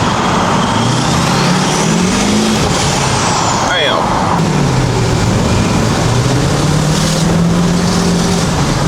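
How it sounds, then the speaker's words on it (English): An old, unreliable truck drives on a windy highway, its engine droning steadily with heavy wind and road roar throughout and a brief whooshing sweep near the middle; no one speaks. "I'm gonna be driving this truck as much as I possibly can"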